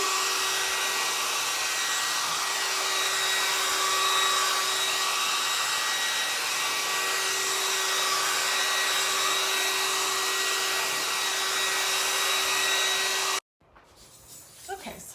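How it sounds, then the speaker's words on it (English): An old embossing heat gun blows a loud, steady whirring hiss with a constant motor whine while drying a craft project, running unbroken for about thirteen seconds before cutting off abruptly, followed by faint handling noise. "I'm going to hit it real quick with my heat gun. This is a very old one. It's actually an embossing gun."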